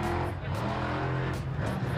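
Off-road race trucks at Miller Motorsports Park, a dense, loud engine roar with layered revving tones that stays steady and close throughout, no clear break between vehicles.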